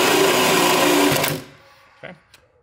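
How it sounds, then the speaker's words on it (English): A powered 3/8 nut driver whines loudly as it drives self-tapping screws through a plate while fitting a rear tire carrier to a 2007-2018 Mercedes Sprinter, then cuts off, leaving a couple of faint clicks. "these are going to be installed using a 3/8 nut driver"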